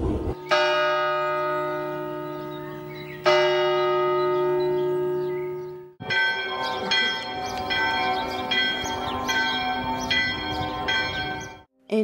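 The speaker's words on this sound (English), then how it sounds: "Some mechanisms are even moving, and even the bell is ringing." Bell in a Swiss fortress tower, heard up close: two single loud strikes with long ringing decay, then a faster run of repeated chimes in a steady pattern that fades out.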